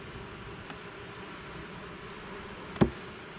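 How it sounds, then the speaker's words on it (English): Upset bees buzzing around a hive during post-treatment checks, a faint, steady drone close by with a brief sharp knock near the end. "we got some upset bees over here"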